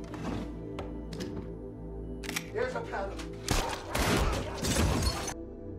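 A gunshot rings out as a doctor is shot in an action film scene, arriving as a few sharp bursts near the end, amid a cluttered soundtrack with voices.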